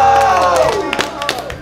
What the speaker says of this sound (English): Let's give it a round of applause for ourselves.